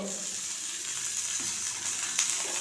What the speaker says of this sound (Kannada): ಚೆನ್ನಾಗಿ ಎಣ್ಣೆ ಹಾಕ್ಬಿಟ್ಟು ಫ್ರೈ ಮಾಡ್ಕೋಬೇಕು